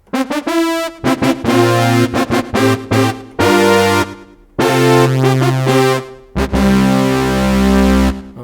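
Rich, brassy Oberheim-style synthesizer brass chords blare in bold polyphonic stabs and sustained swells, some notes sliding between pitches with portamento, loud and full with no voices.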